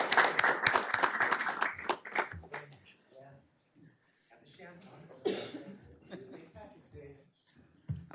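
Applause at an Elk Grove city council meeting honoring Secretary Amy Tong: a dense burst of clapping for about two seconds that fades out, followed by someone talking.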